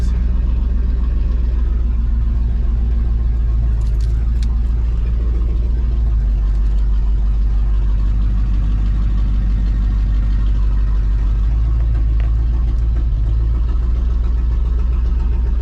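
A heavy truck engine rumbles and idles steadily close by, a deep continuous drone with slight surges in revs and no talking.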